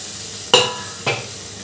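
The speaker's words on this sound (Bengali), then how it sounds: "এবারে ভেজে রাখা আলুগুলো দিয়ে দিলাম" Fried potatoes tumble into a pan of cooked spice paste with two sharp splashy hits, each followed by a quick fading sizzle, close and fairly loud.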